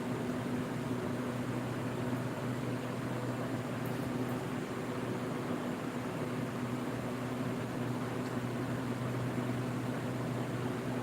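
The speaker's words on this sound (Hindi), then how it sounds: "जैसे कूलर चल रहा है ना" An evaporative air cooler runs in a room, producing a steady, unbroken whoosh of blowing air with a low motor hum that holds at an even, moderate level throughout.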